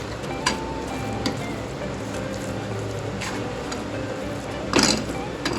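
Motichoor laddu mixture is stirred in sugar syrup in a pan with the gas off, giving a continuous close, wet, crackling scrape with a few sharper knocks.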